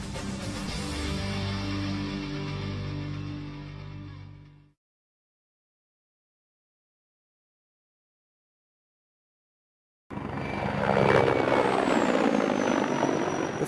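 An Mi-35 military helicopter in flight, its loud steady rotor and engine roar lasting about four seconds before cutting to silence. A second, harsher close engine roar with a rising whine returns after a long gap.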